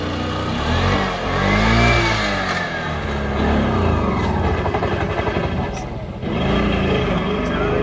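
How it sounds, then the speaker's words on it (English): An auto rickshaw engine strains and revs hard uphill on a Himalayan mountain road in Nepal, its clutch slipping as it nearly stalls. The labored engine note rises and falls steadily, with voices talking over it. "His engine is having a hard time here too? A rickshaw?"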